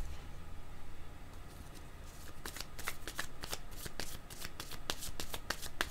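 Tarot cards being shuffled and drawn, soft papery riffling that builds into a quick series of crisp card flicks, close and fairly quiet, with no talking.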